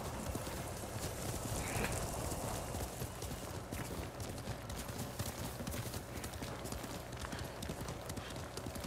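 A horse in the video game Ghost of Tsushima clip-clops along at a steady walking rhythm. The hoofbeats stay close and continuous over an ambient background.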